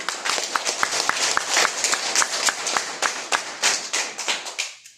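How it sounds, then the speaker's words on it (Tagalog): A church congregation at Grace Gospel Church gives a strong round of applause, many hands clapping in a dense, lively patter with sharp individual claps standing out, fading away at the very end. "Atong ihatag ang makusog na palakpak ni Kuya John Kay"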